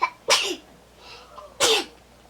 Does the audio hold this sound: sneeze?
yes